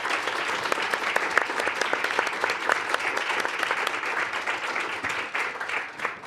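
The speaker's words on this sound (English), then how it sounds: "can we just hear a round of applause for our incredible panelists this evening?" An audience applauds panelists at the close of a public policy event, dense steady clapping sustained for several seconds at moderate level.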